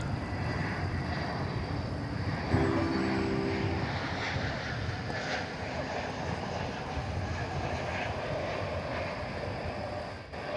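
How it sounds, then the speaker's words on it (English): Airliner inbound from Phoenix at Dallas-Fort Worth, a steady broadband jet roar holding at moderate level throughout, with a brief tonal blip partway through. "here comes a flight from Phoenix."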